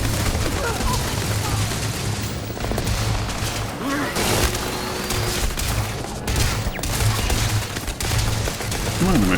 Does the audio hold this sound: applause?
no